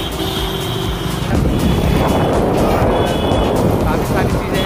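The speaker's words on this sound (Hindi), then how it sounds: "जैसे तो गाड़ी आ रहा है" Traffic on a busy street near a petrol pump, a continuous loud rumble of engines passing close by with wind buffeting the microphone and a slight swell in the middle.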